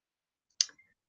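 A single computer mouse click, crisp and close, in an otherwise silent room.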